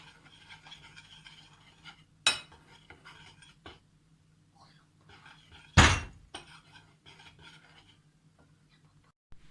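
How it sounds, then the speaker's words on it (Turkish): A utensil scrapes and clinks against a bowl of spices, including black pepper and cumin, in a steady rhythm, with two sharper knocks standing out. "Ve bunları yardımcım Celin Hanım karıştıracak"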